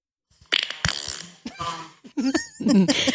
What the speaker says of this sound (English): Would he be opposed to us adding that to our fart soundboard?